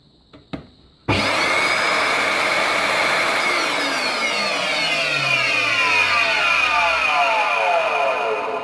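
A Charles Numatic vacuum cleaner with worn motor bearings or brushes switches on with a couple of clicks, then runs loud and steady while its motor winds down, the falling pitch sweeping lower for several seconds; throaty and close.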